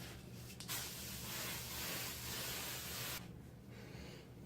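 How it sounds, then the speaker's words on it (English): Hairspray sprays onto hair in one continuous hissing burst of about two and a half seconds, close but fairly quiet, with a little rustling before and after. "And so I'm going to spray it."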